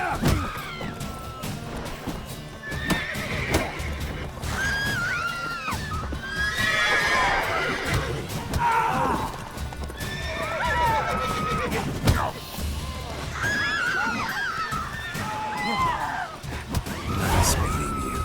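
Horses neighing and whinnying during a fight in The Witcher 3, with several shrill calls over hoof clatter and shouting voices.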